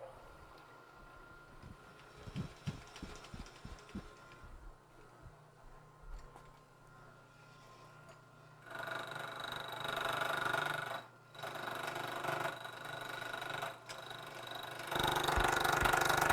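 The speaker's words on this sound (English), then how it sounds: "So we'll just set it on the bottom of the vise, lock it down, and machine down to our line." Milling machine cutting the outer contour of a steel clamp body held in a vise, a steady mechanical whir with a sharper, louder cutting tone rising in the second half, with a few faint knocks early.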